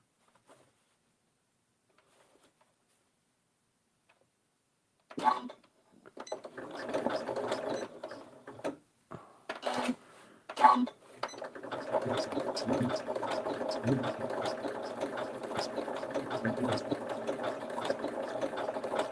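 A sewing machine stitches along the very edge of a fabric scrap, starting with a few short bursts and stops, then running in a steady, fast mechanical patter close by.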